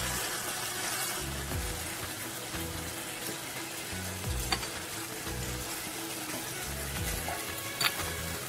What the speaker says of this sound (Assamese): মাছকেইটা অলপ মছলাৰ লগত ভাজি পেলাই তাৰপিছত কেইটামান আলু কাটি পেলাই সৰু সৰু টুকুৰা কৰি আলু কেইটামান দি দিলোঁ।